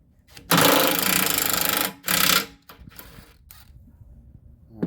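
A socket wrench working a wheel bolt off an MTD 22-inch push mower, with two loud sustained mechanical whirring bursts followed by softer clanks and rattles nearby.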